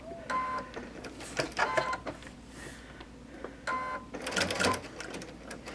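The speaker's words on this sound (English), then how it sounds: "I'm gonna start my sewing" Sewing machine stitching fabric in bursts of rapid mechanical whirring, stopping and restarting several times, close and fairly loud with no talking.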